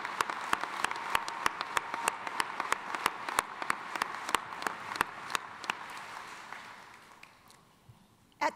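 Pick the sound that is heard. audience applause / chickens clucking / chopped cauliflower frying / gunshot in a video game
audience applause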